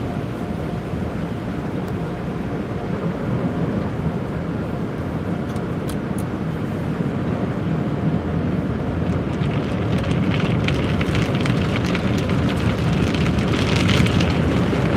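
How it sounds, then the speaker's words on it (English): Automatic car wash heard from inside a car: a steady, loud broadband rush of spraying water and machinery, growing stronger and hissier toward the end, with no talking. "let y'all go in the car wash with me"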